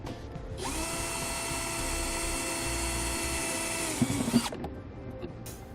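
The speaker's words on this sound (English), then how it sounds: "I'm just going to pre-drill each of those marks with a small bit" A power drill with a small bit whines steadily at high speed for a few seconds pre-drilling metal on a 2016 Jeep, then winds down with a couple of clunks as it stops.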